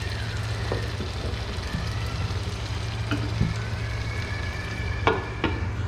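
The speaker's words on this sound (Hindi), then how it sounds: "आपने बिल्कुल इसी हालत में रखना है इसको कि इसका ऑयल अलग हो और मसाला अच्छी तरह फ्राई हो जाए" Chicken masala for Hyderabadi dum biryani frying in oil, a steady close sizzle with occasional soft pops and stirring scrapes, no talking.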